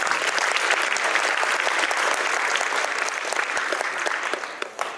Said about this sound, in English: Give our volunteers a round of applause.